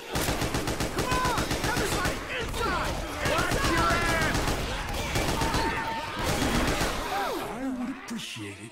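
Rapid bursts of gunfire from many weapons in the zombie shooter Left 4 Dead 2, loud and nearly continuous, with voices calling out over the shooting.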